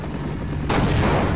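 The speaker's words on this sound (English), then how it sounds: "Oh, I'm firing the gun." A gun fired in Half-Life, a loud, close blast that starts suddenly partway through and sustains as a dense roar with no talk over it.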